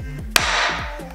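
A single sharp hammer blow on a center punch, marking a metal plate, rings out loud and close with a metallic ring that decays slowly, set against a steady low hum.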